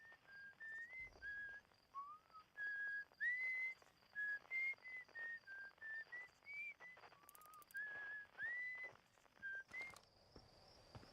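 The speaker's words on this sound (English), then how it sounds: "Someone whistling." A person whistles a wandering tune in short melodic phrases with brief pauses between them, clear and fairly close against a quiet background.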